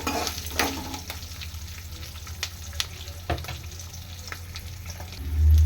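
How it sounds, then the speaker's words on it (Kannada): Green chillies fry in hot oil in a pan for mango chitranna, a steady close sizzle broken by stirring scrapes and clinks, with a louder burst at the very end and no speech. "ಇದು ಕೂಡ ಚೆನ್ನಾಗಿ ಫ್ರೈ ಆಗಬೇಕು."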